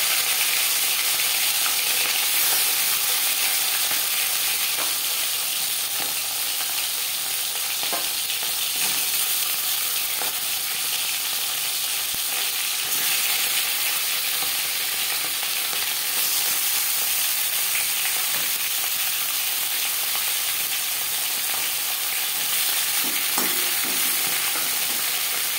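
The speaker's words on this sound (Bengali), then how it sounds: "মাছের মাথা ভেজে নেব।" A fish head fries in three spoons of hot refined oil, a loud, even crackling sizzle that holds steady up close for the whole stretch, with faint occasional clinks and no speech.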